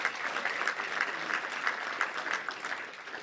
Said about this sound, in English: Let's give a round of applause to everybody who's been a big part of what we do.